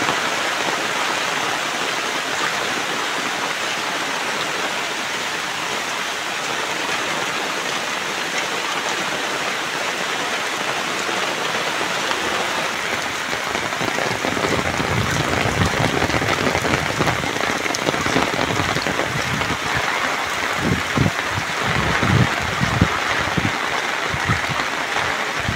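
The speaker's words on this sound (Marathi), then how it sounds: "हो पाऊस बघा काय आहे." Heavy rain pours down outdoors in a village near a river, a dense, steady roar of drops drumming on surfaces that grows rougher and more spattering toward the end, with no talking.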